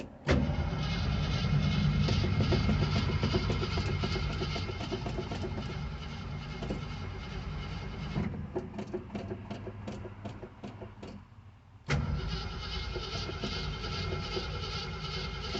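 A 1974 AMC 360 V8 with a carburetor cranks and runs, a loud, steady mechanical roar filling the space, briefly dropping and thinning for a few seconds before surging back to full strength.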